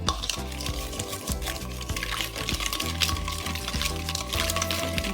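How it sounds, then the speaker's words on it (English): Barbecue pork marinade for pork sticks being mixed until the salt dissolves, a close, steady wet stirring and sloshing that runs continuously for a few seconds with no talk. "Just mix well, and if you can feel the salt is dissolved already, you can taste it."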